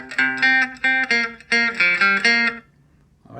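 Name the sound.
descending octave riff on string instrument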